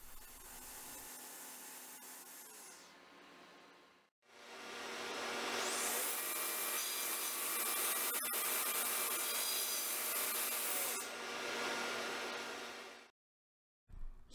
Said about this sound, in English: Here we cut the coffee table arch to almost final size, and then trim both legs stacked together to ensure uniformity.